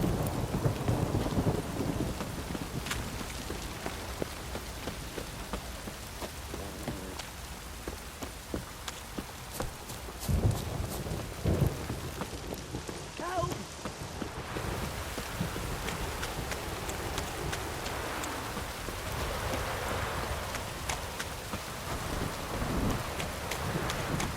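Steady rain pours down in a video game (The Witcher 3: Wild Hunt) with occasional low rumbles of thunder, a continuous, close wash of drops with no voices.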